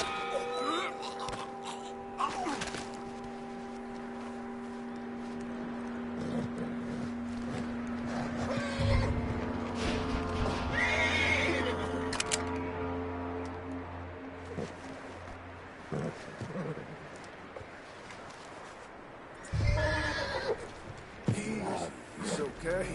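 A horse neighs and snorts in the Western video game Red Dead Redemption 2, whinnies breaking through in bursts amid clattering movement and effects, with a voice speaking over parts of it.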